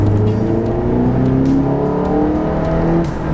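Mitsubishi Eclipse with 80,000 miles and a known problem, its engine revving hard under acceleration, a loud, close engine note climbing steadily in pitch through the gear.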